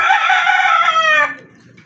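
A gamecock brood stag crows once, close and loud, a long bright call that trails off into quiet.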